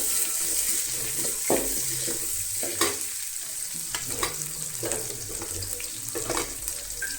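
Chopped onion and green chilli frying in a pan for upma, a steady close sizzle broken by repeated scraping and stirring strokes, with no talking.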